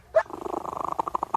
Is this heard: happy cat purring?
yes